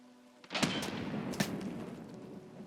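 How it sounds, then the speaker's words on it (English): A grenade bursts in a tactical shooter game with a sudden loud boom, followed by a second sharp blast about a second later and a lingering noisy rumble that slowly fades. "throw a nade, and then we'll peek him"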